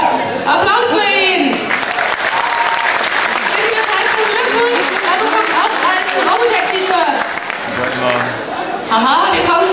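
Sustained applause from a convention audience greets a Final Fantasy VII Sephiroth cosplayer approaching the stage at a cosplay awards ceremony, dense and loud throughout with crowd noise mixed in.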